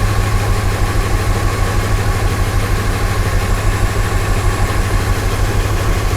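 A car engine idles steadily during a cylinder misfire test, a loud, continuous low rumble with a slightly uneven pulse, close by and alone with no talk.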